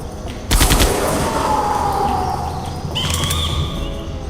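Burst of gunfire from Jurassic Park: The Game, a loud rapid volley of shots up front that fades into a long ringing tail with faint tones.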